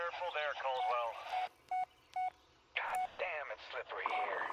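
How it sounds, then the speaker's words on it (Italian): Telephone keypad dialing tones in the Blair Witch video game, a few short separate beeps between stretches of speech, heard near and clear. "Questo è il telefono."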